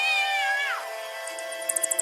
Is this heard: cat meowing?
yes